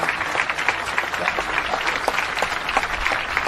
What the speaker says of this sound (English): they have to clap